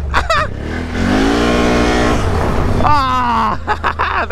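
A Can-Am ATV engine revs hard during a wheelie near a muddy swamp, rising in pitch, holding a loud drone, then climbing again in a second sharp rev, close and dominant.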